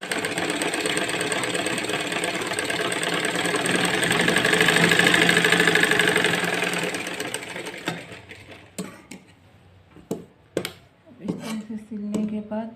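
Sewing machine stitching a kurti, a steady mechanical whir for several seconds that stops, followed by scattered handling clicks and fabric rustles close by.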